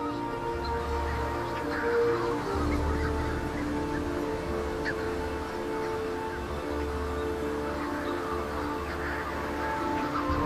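Great shearwaters call over their breeding colony at dusk, a constant layered chorus of honking, wailing cries from many birds, some near and some distant, with no pause.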